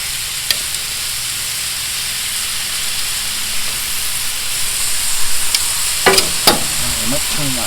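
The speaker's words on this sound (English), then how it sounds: "mushrooms and onions fried in butter" Mushrooms and onions frying in butter on a stovetop burner give a steady, moderately close sizzle and hiss, with a few sharp clinks and utensil scrapes near the end.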